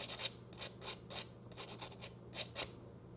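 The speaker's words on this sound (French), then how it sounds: "C'est aussi un bon moyen pour savoir si on a réussi le ponçage." A cut plastic model part for an Artitec forklift kit is sanded by hand in quick, faint rasping strokes, about ten short scratches in an uneven rhythm with brief pauses, close up and with no talk.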